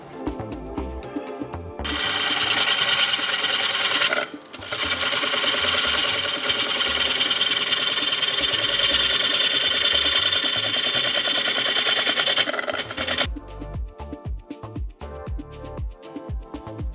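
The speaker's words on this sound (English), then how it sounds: "we'll core another bowl out of the inside of this." Wood lathe coring a second bowl from inside a reverse-mounted bowl blank, loud and close: a harsh, steady rasping cut that runs long, stops briefly, resumes, then gives way to lighter scraping and knocks.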